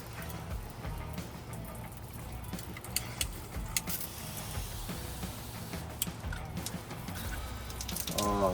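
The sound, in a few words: water spraying from shower head on OPENROAD metal shower tank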